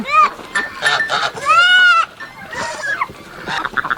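Goats on a farm homestead bleat repeatedly and loudly, with wavering calls and overlapping cries, and other farm animals are mixed in.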